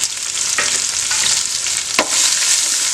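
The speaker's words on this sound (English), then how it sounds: "we'll go ahead and saute the onions until they get around like translucent" Thinly sliced red onions sautéing in a pan for chicken biryani, giving a steady close sizzle with a few sharp scrapes and clacks of a utensil stirring, no voices.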